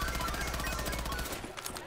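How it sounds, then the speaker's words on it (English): An AK assault rifle fires in a video game: a fast, continuous burst of loud automatic shots that cuts off near the end, leaving a few faint trailing sounds. "let's see how good the AK is"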